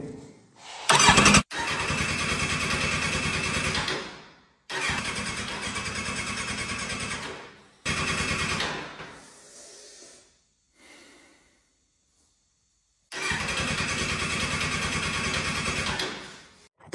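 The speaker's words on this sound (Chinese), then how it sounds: "现在它油也有了，电也通了，可以尝试启动了" A salvaged Kawasaki heavy motorcycle, tank wired up by jumper leads, is cranked in repeated loud bursts of a few seconds each, with short pauses between attempts.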